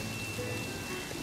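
Steady rain falls in a dense, even patter with no break, close by and moderately loud, with no voices over it.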